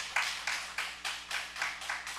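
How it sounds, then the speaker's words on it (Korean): Worship congregation at an early Monday morning church prayer service claps in rhythmic unison, roughly eight evenly spaced, fairly faint beats with no talking over them. "이 시간에 다시 한번 영광의 예수 그리스도께 박수 한번 올립시다."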